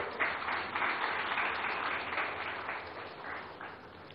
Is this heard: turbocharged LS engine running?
no